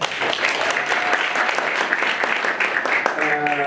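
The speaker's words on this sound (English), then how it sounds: "Please give yourself a round of applause." A crowd claps steadily for several seconds at an awards ceremony at a Rand Water pumping site, a dense, sustained round of applause with a few louder claps standing out.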